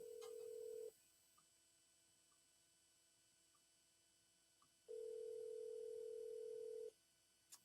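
Telephone ringback tones from an unanswered outgoing call: one long steady ring, then a silent pause and a second long ring, clear and electronic over a faint background hum.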